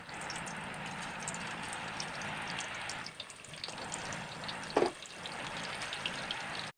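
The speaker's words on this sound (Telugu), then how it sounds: "డీప్ ఫ్రైకి సరిపడే ఆయిల్ అయితే పోసుకోవాలి. అన్నిటిని విడివిడిగా వేసుకొని ఫ్రై చేసుకోవాలి మంచిగా." Okra pieces deep frying in plenty of oil in a pan, a close, continuous bubbling hiss with a short lull and one brief clink of a utensil, no talking.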